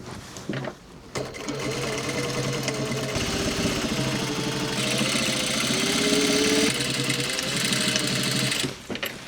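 Sewing machine running a quarter-inch seam on dungarees, a close steady whirring stitch that starts after a brief stop and runs continuously for about eight seconds before halting.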